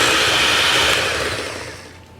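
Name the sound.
electric whisk beating butter and sugar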